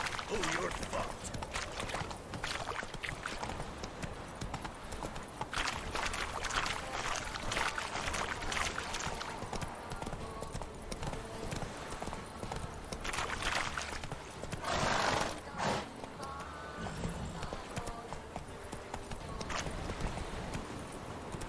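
Roach the horse gallops in The Witcher 3: Wild Hunt, hooves beating a steady, rapid clip-clop throughout, with someone talking over it and other game sounds mixed in.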